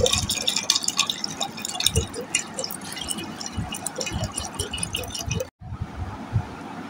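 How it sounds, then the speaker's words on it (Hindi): Cold water is poured into a bowl of lemon juice, giving uneven splashes and dripping plops with small clinks, close by. It stops suddenly toward the end, then faint room noise follows. "अब मैं ठंडा पानी शामिल करूँगी।"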